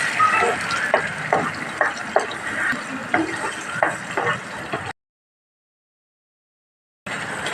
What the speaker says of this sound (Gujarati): ગ્રેવીને આપણે સરસ હલાવી દઈએ।